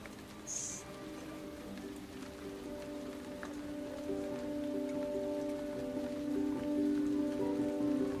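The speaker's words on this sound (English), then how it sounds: "The rain is falling again" Steady rain falls in an even, continuous hiss that swells slightly toward the end, with soft sustained musical tones running underneath.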